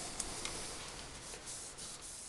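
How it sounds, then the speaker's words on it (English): Cloth rubbing a thin coat of oil onto an 1851 Navy revolver, a soft continuous scrubbing hiss, close and quiet, with no speech. "Just rub it down."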